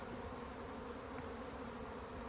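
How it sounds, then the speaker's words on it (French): Honeybees swarm around an active hive in a steady, dense buzz, many insects together, constant and fairly loud throughout with no voices. "Il y a beaucoup d'abeilles qui sont sorties là."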